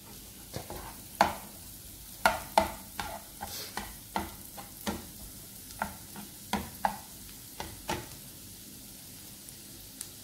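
Garlic butter shrimp cooks in a pan with a faint, steady sizzle, broken by a series of sharp clinks and scrapes from stirring at irregular intervals.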